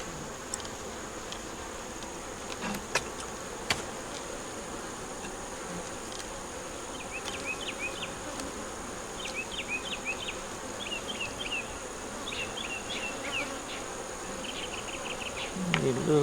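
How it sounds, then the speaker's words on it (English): Honey bees buzz steadily around a hive kept in nuc boxes, a soft continuous drone with individual insects passing close by, plus a few faint clicks and quiet background sounds. "I don't like my bees to feel that way."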